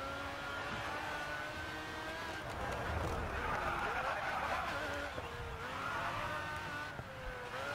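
A Pagani Zonda Revolucion race car in GRID 2, its engine holding a steady high whine with shifting pitch through gear changes, running continuously at moderate level.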